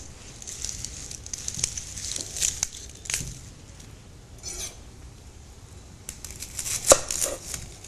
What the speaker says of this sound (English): Slice up a yellow onion.